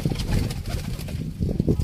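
Khaki chuha pigeons at a loft in Sialkot give low, soft coos that repeat in steady pulses, close by and continuing without a break, with no voices over them.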